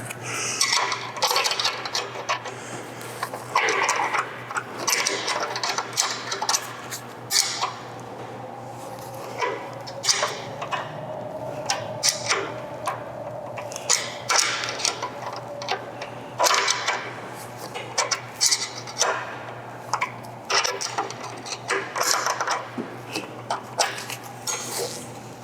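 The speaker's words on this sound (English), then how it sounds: "then we tighten the bolt down to hold it" A 9/16 wrench tightens a bolt through a receiver during assembly, producing repeated close metallic clicks, taps and clinks throughout with a faint steady hum underneath.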